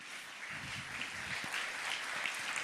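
Church congregation claps for the Lord, a fairly faint, dense patter of applause spread across the room, with a few low thumps mixed in.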